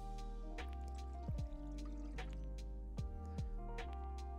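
A cup of water poured into a garlic shrimp stir fry, heard as short liquid splashes and trickles over a steady background of music, with no talking.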